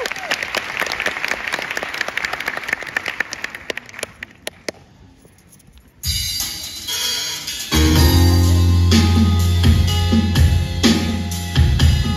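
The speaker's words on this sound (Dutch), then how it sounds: "Geef hem nog een geweldig applaus." Loud, dense applause from an audience at a kirtan performance fades out over several seconds, then gives way to music with sustained harmonic tones and steady instrumental playing.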